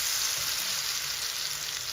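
Steady, close sizzling of zucchini fritter batter frying in hot oil in a pan, a continuous crackling hiss with no voices.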